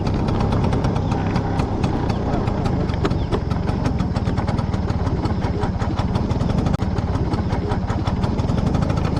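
A 1980s Bajaj Chetak scooter rides off-road, its small two-stroke engine buzzing steadily and loudly throughout with a continuous rattling drone.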